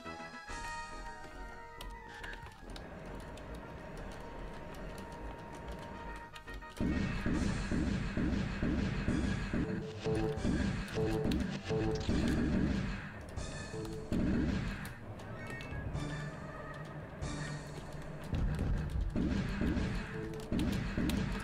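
Spaceship laser and cannon fire in the Privateer space combat game, dense bursts of impacts and blasts over a continuous engine drone and music, loud and sustained throughout.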